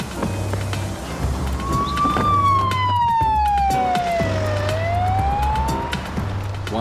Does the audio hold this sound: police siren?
yes